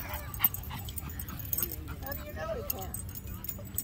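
A 15-year-old dog sniffs and lets out soft whimpers and yips, faint and close, while a metallic jingle like a collar tag sounds now and then and people talk nearby.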